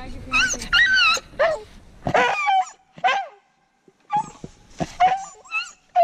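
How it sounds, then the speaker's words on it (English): A New Guinea singing dog lets out a series of high-pitched, wavering yips and howls, close and loud, with short gaps of near silence between the rising, sliding cries. "When they howl, they have a very distinct high-pitched howl"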